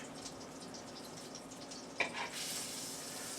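Bread sizzles in melted butter in a pan, a soft continuous hiss close by. A small clatter sounds midway, then the frying grows brighter and a little louder.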